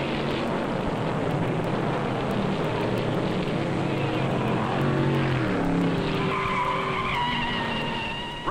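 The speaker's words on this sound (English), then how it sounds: "Rutherford, a number 13 Chevrolet, spins on the backstretch." Stock cars roar around a speedway in a long dense engine drone, with tires skidding and squealing as a Chevrolet spins on the backstretch, sustained and loud with rising whine near the end.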